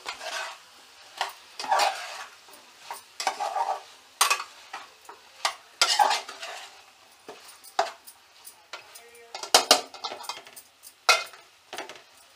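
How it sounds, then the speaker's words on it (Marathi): A spoon stirs and mixes raw banana vegetable with salt in a pan, giving a series of close, uneven scraping strokes with short pauses between them and no voices. "आणि भाजी संपूर्ण मिक्स करून घेऊयात."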